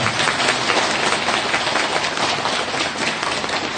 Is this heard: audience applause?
yes